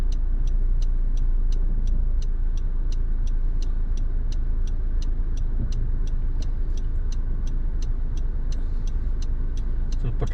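Steady engine and road rumble from inside a car driving through city traffic in Charlotte, continuous and fairly loud, with a regular ticking like a turn signal clicking throughout.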